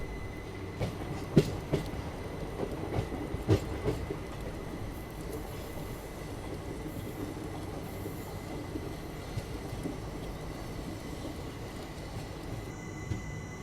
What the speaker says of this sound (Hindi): सामने अपनी यहाँ पे क्रॉसिंग हो रही है वीर भूमि चित्तौड़गढ़ एक्सप्रेस से